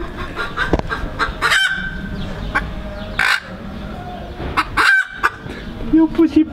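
Hens cluck loudly and close, with repeated short bursts of clucking and squawking over background music, some honk-like calls mixed in.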